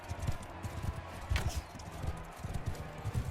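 A horse gallops in the combat game Mount & Blade II: Bannerlord, rapid close hoofbeats in quick irregular bursts throughout, with a faint whoosh midway and no talk.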